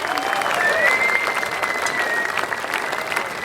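Spectators at a Long Drive World Series golf event in Portugal clap and cheer for a long-drive golfer, sustained loud applause with scattered whoops throughout.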